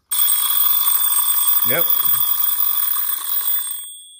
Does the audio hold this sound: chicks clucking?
no